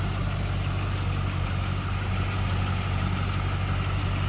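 The GM LS1 5.7 liter engine of a 2002 Pontiac Firebird Trans Am WS6 convertible idles with a steady, close low rumble, unchanging throughout and with no talking over it.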